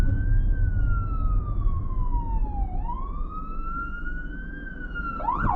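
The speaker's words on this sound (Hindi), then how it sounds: "फायर वाला था" A fire engine siren wails as the truck passes on a road in Canada, one long rising and falling tone that dips as it goes by, heard from inside a vehicle over steady road rumble.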